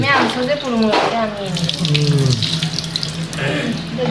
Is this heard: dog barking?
no